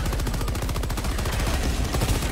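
Rapid automatic gunfire from the Helldivers video game, a dense continuous burst of closely spaced shots, loud and steady throughout with no talking.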